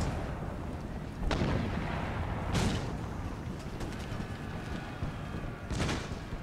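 Rockets firing in the Total War Darthmod battle game, three sharp distant bursts spread across a rumbling battlefield din.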